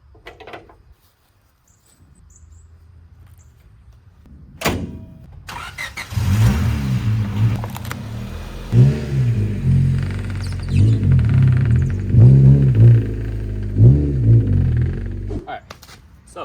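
A Honda Civic built from junkyard parts cranks and starts after a quiet pause, then idles with a deep uneven rumble and revs up several times, close by, with a voice talking over it.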